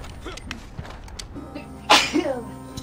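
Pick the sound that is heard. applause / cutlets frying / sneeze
sneeze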